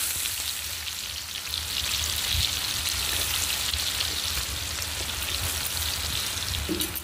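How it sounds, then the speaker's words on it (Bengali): Chopped onion fries in hot oil in a wok after a tempering of bay leaf and dried red chillies, producing a loud, constant close-up sizzle like steady rain, with occasional stirring scrapes. "পেঁয়াজটাকে দিয়ে আমি ভালো করে ভেজে নেব।"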